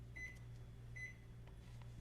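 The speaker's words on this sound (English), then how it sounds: "The microwave just went beep," A kitchen microwave oven gives two short, clear electronic beeps about a second apart over a low steady hum.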